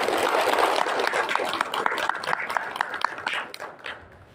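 Applause at a live press event with Timor-Leste's president: a crowd claps, settling into a steady rhythmic beat of sharp claps before fading out toward the end.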